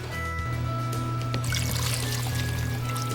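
Water is poured into a pot of partridge rice soup, a continuous splashing pour that grows brighter and busier partway through, close and steady, with no talk.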